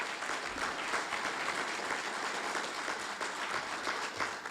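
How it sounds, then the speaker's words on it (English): A crowd at a fire department awards ceremony claps in steady, dense applause that holds at an even level throughout. "How about a round of applause"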